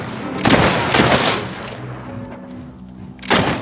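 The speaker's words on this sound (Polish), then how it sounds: "tutaj jest wybuchająca beczka" A barrel explodes in the video game Fable III, with heavy booming blasts near 0.5 and 1 s and another at the end, broad and loud with no talk.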